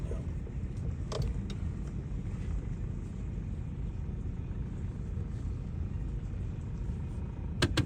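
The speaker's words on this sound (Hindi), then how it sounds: "तो यहाँ पे मैं गाड़ी पार्क करता हूँ" A car rolls slowly to park at a small mountain overlook in the Rocky Mountains, with a steady low engine and tyre rumble throughout and a few faint clicks, no voices.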